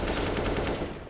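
Rapid automatic gunfire exchange in Counter-Strike: Global Offensive during a GODSENT vs Fnatic match, a dense burst of close, loud shots lasting about a second with no voices.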